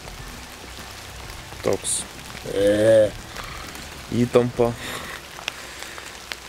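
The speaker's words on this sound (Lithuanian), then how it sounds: "dar čia lietus prasidėjo" Rain begins falling outdoors during a Danube flood evacuation trip, a steady soft patter spread across the whole clip while someone talks in short bursts over it.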